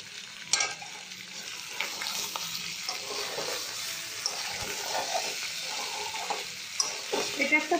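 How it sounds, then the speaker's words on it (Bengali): Leftover paneer is stir-fried in a pan for mixed rice, with a soft steady sizzle under repeated scraping stirs and occasional louder clinks of the spoon. "এবার দিয়ে দিলাম বেঁচে যাওয়া পনির।"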